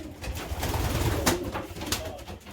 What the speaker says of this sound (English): the sire to these pigeons is a full brother to my number 1 cock, from Chief and Key Off Time